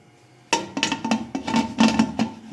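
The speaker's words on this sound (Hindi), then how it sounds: "अब हम कुकर बंद करेंगे" A metal pressure cooker lid is fitted and locked shut after meat goes in with salt and water, a rapid series of clanking, scraping metallic knocks, close and fairly loud, with no voices.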